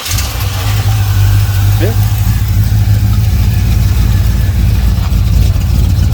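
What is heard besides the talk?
car engine cranking over and idling with new spark plugs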